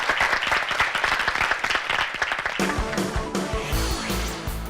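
Applause in a Korean high school debate competition studio for two debate teams, with brisk crowd clapping that gives way after a few seconds to a swelling musical sting.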